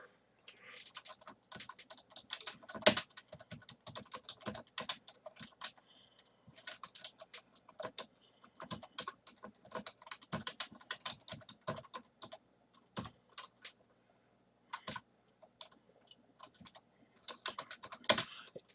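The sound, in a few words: typing code on a computer keyboard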